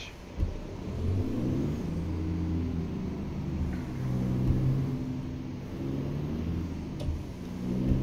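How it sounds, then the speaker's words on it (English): SCS Peterbilt 379 truck hauling a load of tires in American Truck Simulator, its engine rumbling steadily and close with low, fluctuating revs through the whole stretch, a couple of brief thumps along the way. "we're gonna go ahead and uh, get on the road using the SCS Peterbilt 379"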